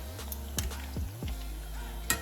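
Anarsa, a traditional Marathi Diwali sweet, frying in hot oil in a home kitchen: a steady sizzle with a few sharp clicks and scrapes of a utensil against the pan, close and moderately loud, with no talk.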